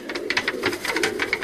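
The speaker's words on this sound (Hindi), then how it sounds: "मलक साहब कबूतर चेक कर रहे हैं" Pigeons coo and flutter nearby in a soft, repeated run of short calls, mixed with scattered faint noise and no clear talk.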